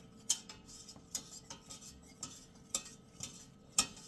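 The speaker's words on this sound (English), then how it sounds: "So I'm just going to whisk this into the butter" Butter and a mixture being whisked together in a pan, with a series of sharp metallic clinks and taps from the whisk striking the pan at an irregular pace, fairly quiet and close, with no voices.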